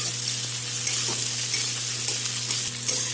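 Two medium onions frying in a pan for a Bengali roast, a loud, steady sizzle with a constant hum beneath and faint scrapes of stirring throughout.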